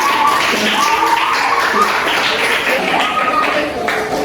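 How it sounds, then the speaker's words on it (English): An audience at a kids' coding competition cheers and claps for the contestants in a dense, steady wash of applause and voices that holds for the whole stretch. "Oh, please cheer for them."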